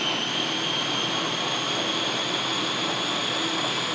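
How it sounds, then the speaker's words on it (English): A blender whirs through a homemade carp dough bait mixture with corn chunks, a loud, steady high-pitched motor whine that holds unbroken the whole time. "Let's see if we'll go ahead and get this blended down"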